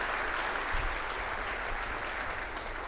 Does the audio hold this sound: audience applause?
yes